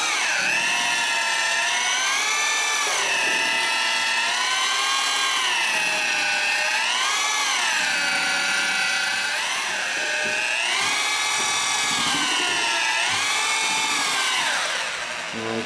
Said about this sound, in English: You definitely want a variable speed drill to do this